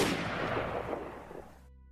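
A single shotgun blast in a narrated hunting story, a sharp loud shot followed by a decaying echo that fades out over about a second and a half.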